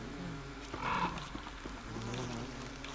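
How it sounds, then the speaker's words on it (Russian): Bees buzzing in the video game Don't Starve Together, a faint, wavering hum with a brief louder buzz near the middle over a low background. "Лови пчел."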